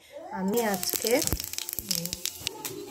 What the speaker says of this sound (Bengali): তাই জন্য তেলে আমি 5 ফোড়ন দিয়ে দিয়েছি